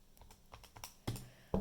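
Quick run of light plastic calculator key taps, entering several numbers one after another, each followed by a firmer press of the enter key; close, clicky and isolated with no talking.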